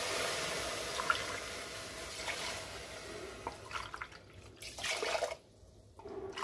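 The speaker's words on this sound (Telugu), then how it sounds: "6 నుంచి 7 కప్పులు నీళ్ళు పోసుకోవాలి." Water poured into a pressure cooker holding rice and dal for sweet pongal, a steady close trickle and splash with brief louder gushes, then a short quieter pause near the end.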